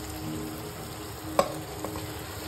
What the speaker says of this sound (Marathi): आपलं मॅरिनेट केलेलं चिकन चाललंय कढईमध्ये।